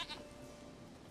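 A goat bleats in The Witcher 3, a short nasal cry near the start that fades into a steady low game ambience, with no talk over it.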